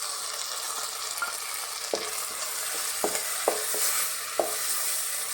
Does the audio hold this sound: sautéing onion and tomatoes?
yes